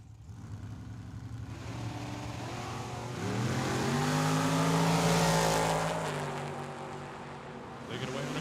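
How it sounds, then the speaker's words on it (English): Dragster and Camaro launch off the line at a drag strip, engines roaring up in rising pitch sweeps that swell loudest mid-run and fade toward the end, with a track announcer talking over the racket. "the Camaro is about to take off by almost a full Christmas tree"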